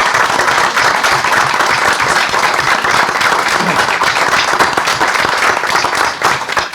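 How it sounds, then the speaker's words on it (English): A packed room at a school board meeting gives a round of applause for a school team, with sustained loud clapping from many people that runs steadily and eases off at the close. "You deserve a round of applause for your good work"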